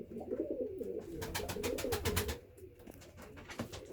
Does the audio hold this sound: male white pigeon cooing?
yes